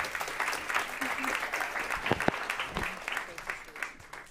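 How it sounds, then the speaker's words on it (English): An audience at a talk on food and agriculture as a solution to the climate crisis claps steadily for about four seconds, a moderate crowd of dense overlapping hand claps at an even level, with a few louder individual claps near the middle. "Please give her a round of applause."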